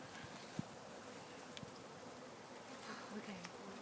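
A swarm of honeybees that has left the hive and settled in a tree gives a steady buzzing drone with a few soft knocks and distant voice traces.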